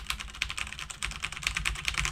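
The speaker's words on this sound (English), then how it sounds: "if I type away on my normal, everyday, run-of-the-mill mechanical keyboard" Rapid typing on an ordinary mechanical keyboard, the keys clacking in a fast, steady stream of crisp strikes close up, with no voices.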